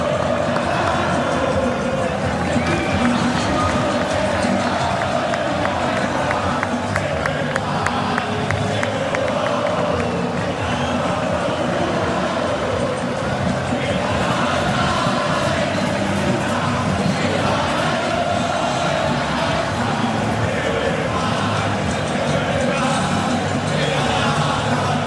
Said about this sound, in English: Have a little watch and a listen to this crowd responding to that Argentina team on the pitch.